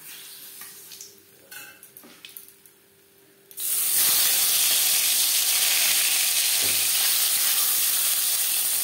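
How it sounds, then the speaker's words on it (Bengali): Tilapia fish frying in oil in a Bengali kitchen: after a quieter opening, a loud, dense sizzle bursts in and holds steady and close to the end. "পরের মাছ একইভাবে ভেজে নেব"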